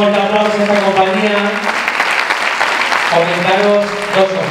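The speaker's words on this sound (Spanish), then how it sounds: "le damos este fuerte aplauso a esta compañía" A theatre audience applauds a touring company at a festival event in Sancti Spíritus, steady clapping filling the clip while a voice speaks over it at the start and again near the end.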